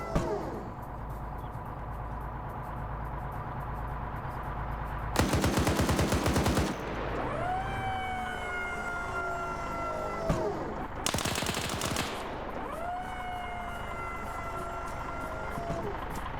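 In a military video game, a machine gun fires two loud, rapid bursts, one long and one shorter, over a steady background drone of engines and whining tones.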